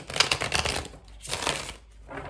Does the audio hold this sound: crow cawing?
no